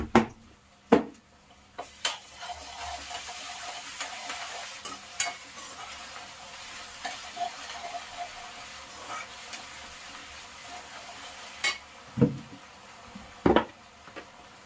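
Ginger garlic paste fries in a pan with a soft continuous sizzle, broken by sharp scraping clatters of stirring near the start and end; no one speaks.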